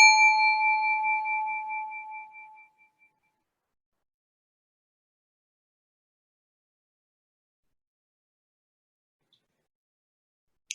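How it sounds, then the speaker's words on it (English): A single meditation bell is struck once, giving a clear ringing tone that fades smoothly to silence over about three seconds. Near-silence follows for the remainder. "the invitation is to listen to this sound of the bell"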